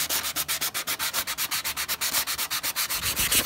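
Stainless steel is rubbed with 180 grit sandpaper in fast, even back-and-forth strokes, a close, rasping scratch that pulses rhythmically about seven times per second with no voices.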